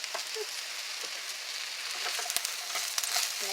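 Sliced mushrooms sizzle steadily in hot oil in a pan, a soft continuous frying hiss with faint crackles and a couple of light pops, close by and fairly quiet, with no talking.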